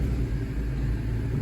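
A 2020 Toyota Tacoma engine runs just after being started, a steady low rumbling idle heard close and alone.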